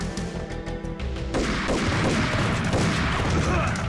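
Enemy gunfire in the video game Max Payne, starting as quick separate shots and then swelling into a loud, sustained barrage of overlapping blasts.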